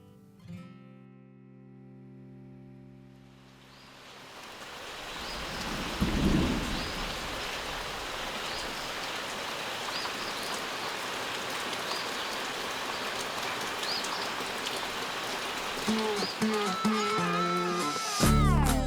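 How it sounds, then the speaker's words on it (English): Heavy morning rain pours down steadily in Missouri in a dense, hissing roar, with a deep rumble of thunder partway through and no voices. "the first morning doesn't give us much hope. A straight up downpour."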